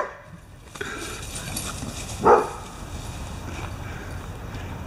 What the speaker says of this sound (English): when she won't run, he barks in her ear